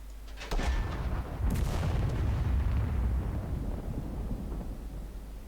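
A war video game anti-aircraft machine gun opens up with a sharp burst, followed by a long rumbling roar of fire and heavy booms that slowly decays.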